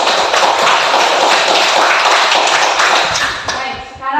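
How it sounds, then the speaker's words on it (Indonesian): A school class claps hands together in a dense, continuous patter that is loud and close, then thins and stops near the end as a voice begins speaking. "Berikan tepuk tangan kepada"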